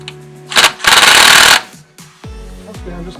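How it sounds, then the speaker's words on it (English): A power drill running out bolts during disassembly of a Lumina engine: two bursts of harsh, rattling whir, the second longer and louder, followed by quieter tool clatter and a trailing mechanical hum, close up. "Just get them popped and then with the drill, get the rest of the way out"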